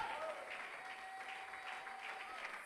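A church congregation at a Bible conference applauding to acclaim the king, a continuous dense wash of clapping heard from a distance, with a faint sustained tone running through it.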